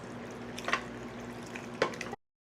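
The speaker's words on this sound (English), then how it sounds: "We have our reserved pasta water." Quiet liquid splashes as reserved pasta water is poured into a pan in two short bursts over a faint background hum.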